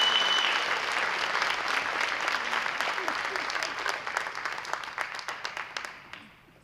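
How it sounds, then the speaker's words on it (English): Applause fills a luncheon room, dense and steady at first, then thinning into scattered individual claps as it fades out near the end. "Another round of applause for Communities in Schools of East Texas."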